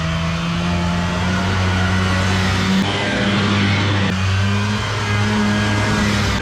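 A car engine revs hard and accelerates up close, a loud steady drone with rising tones and a brief shift break partway through.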